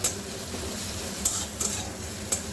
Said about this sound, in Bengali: পাঁচ থেকে ছ কোয়া রসুন আমি একটুখানি থেঁতো করে নিয়েছি ওটা আমি দিয়ে দিলাম যে একটু ভেজে নেবো